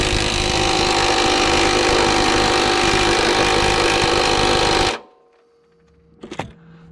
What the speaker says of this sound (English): using my Milwaukee 3/8 stubby impact